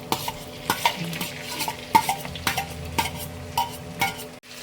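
Tomatoes stirred in a frying pan with onions, a spoon scraping and clinking against the pan in irregular close strokes over a soft background sizzle.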